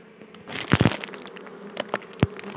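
Honeybees from a large, dense colony being gathered up by hand, a faint steady hum with several sharp louder bursts of buzzing and handling noise close by.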